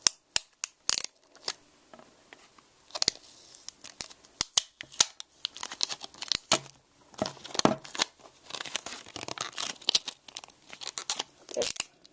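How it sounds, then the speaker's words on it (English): Plastic film is peeled and torn off a new iPod Touch 4G 8GB, with sharp crinkles, snaps and rustling bursts scattered irregularly at close range. "let's unwrap it. Just first unpeel this part."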